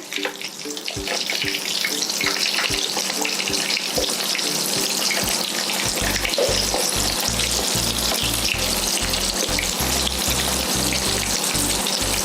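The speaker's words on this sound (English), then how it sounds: "Okay, so we're gonna start to fry our korma. Our oil is ready." Korma pieces frying in a pot of hot oil sizzle loudly and continuously at close range, with a steady crackling hiss and occasional low bumps and knocks from the pot or utensil.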